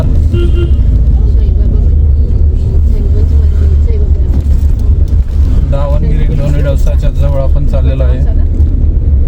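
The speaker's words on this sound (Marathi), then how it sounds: "ट्रॅफिक पण आहे थोडंफार." Road traffic on a highway near Davangere, a steady broad rumble of passing vehicles filling the whole clip while people talk over it.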